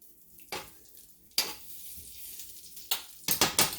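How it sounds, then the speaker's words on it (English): Butter melts in a frying pan with a faint low sizzle, punctuated by several sharp scraping or clattering bursts of utensil on pan, close and intermittent. "I'm going to go ahead and put it in my pan"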